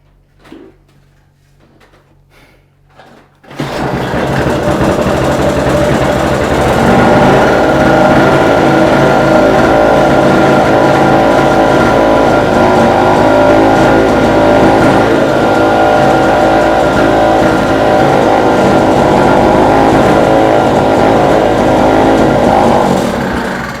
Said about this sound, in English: the generator did produce voltage after changing this dead capacitor